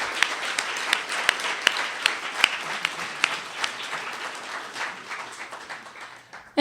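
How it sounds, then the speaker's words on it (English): A modest audience claps for event volunteers, with distinct sharp individual claps standing out over a thinner bed of applause that gradually tapers off. "round of applause"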